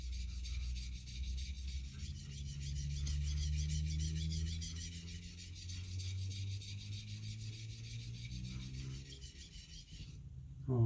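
A knife's hard steel blade is drawn repeatedly along a 3K whetstone, giving a steady close-up rasping scrape in long strokes, with a brief louder knock at the very end.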